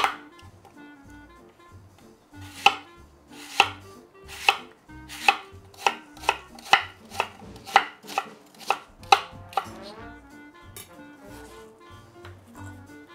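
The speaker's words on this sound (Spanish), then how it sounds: "La vamos a intentar cortar en daditos súper, súper pequeños." A knife chops a sour apple into tiny dice on a cutting board: about a dozen crisp, sharp chops in a quickening, fairly regular rhythm, close and distinct over a quiet background, with no speech.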